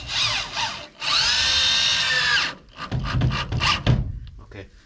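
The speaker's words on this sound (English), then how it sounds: "I'm just going to put a couple screws in." Cordless power drill driving screws into treated lumber decking: two short whirring bursts, then a sustained run of about a second and a half, followed by a few brief, uneven pulses near the end.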